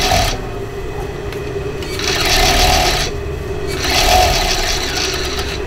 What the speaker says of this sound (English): we're going to overlock with the body on top and the sleeve underneath.